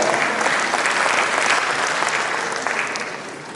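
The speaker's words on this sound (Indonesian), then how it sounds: "Aplaus buat UMKM kita." Steady applause from an audience at a public event on digitalizing local small businesses in Padang, a dense, continuous clapping that stays loud throughout and eases slightly toward the end.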